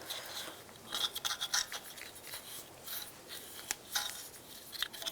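A brush spreads a thin coat of anti-seize onto the hub mounting surface of a 2014-2022 Jeep Cherokee rear axle, giving quiet, close, irregular scrubbing and scratching strokes in short bursts.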